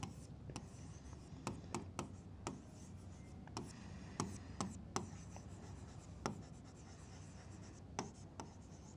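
A pen scratches on paper while a triangles geometry proof is written out by hand, faint close strokes and sharp little taps in an irregular rhythm over a quiet room hum.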